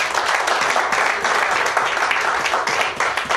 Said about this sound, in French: Nous applaudissons mon Dieu.